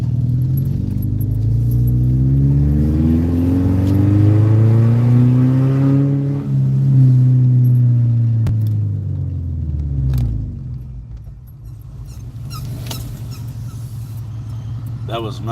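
A car revs and drives past on a warm night street, its engine note sweeping up and then down over about ten seconds as it nears and fades, leaving a steady low rumble of traffic and some faint jangling afterward.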